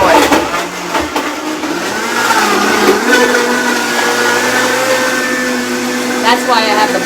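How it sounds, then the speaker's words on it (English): A kitchen blender runs steadily, whirring loud and close as it blends a mocha espresso smoothie, with a brief stutter near the start and a slight pitch shift toward the end. "So anyway, we're going to blend it up."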